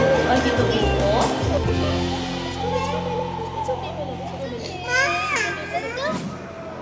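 A young girl cries on her first day of school, her wails rising and falling in several drawn-out bursts amid a noisy crowd of children playing and talking nearby.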